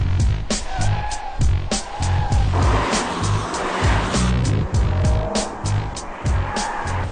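A V8-powered BMW M3 with 414 horsepower drives by, its loud engine and road noise continuous and close, with sharp transient bursts throughout and no talking.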